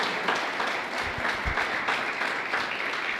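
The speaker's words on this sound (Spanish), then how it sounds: "Eso merece un aplauso, ¿verdad?" A church congregation applauds, a moderate spread of clapping with some louder individual claps, steady across the short stretch with no voice over it.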